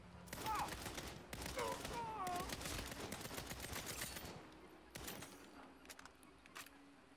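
Bursts of automatic gunfire in the Saints Row video game, rapid rattling volleys for about four seconds, then a few scattered single shots, with someone talking over the action.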